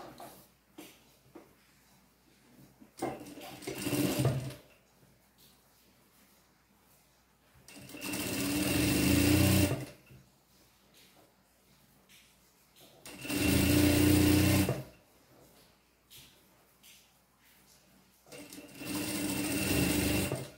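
A sewing machine stitches pantacourt trousers, backstitching the crotch seam for reinforcement, in three loud whirring runs of about two seconds each, with quieter handling and soft talk in Portuguese in between.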